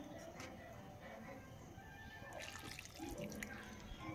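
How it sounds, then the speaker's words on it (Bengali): Water pours and splashes into a cooking pan holding tomato and coriander, a quiet running trickle that grows brighter and more splashy toward the end. "এবার খুব সামান্য পরিমাণে একটু জল দেব"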